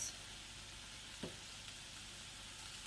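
Pork and vegetables sizzling in a stir-fry pan, a steady, fairly faint hiss and crackle with one brief clink, no voices.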